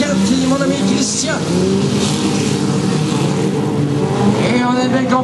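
Four-cylinder race cars roar around the first turns of a track, a loud continuous blend of engines with rising and falling pitch as they accelerate, heard from nearby without pause.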